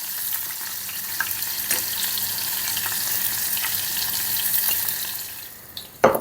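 Halloumi cheese fries in hot oil with a dense, continuous crackling sizzle at close range. The sizzle holds steady, then a sharp clatter comes right at the end.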